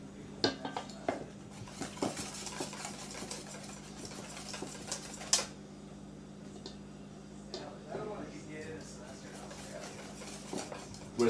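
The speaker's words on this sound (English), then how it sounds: "Whiskin, whiskin, whiskin." Sauce with olive oil and bacon pepper being whisked in a bowl, giving quick light clinks and scrapes of metal on the bowl over a steady kitchen hum, fairly faint.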